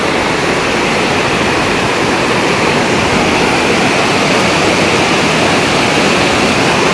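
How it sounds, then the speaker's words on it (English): A small mountain stream near a base camp at Pandikeshwar rushes steadily, a close, loud, unbroken wash of water noise with no voices over it. "Everywhere some small stream like this all over the place."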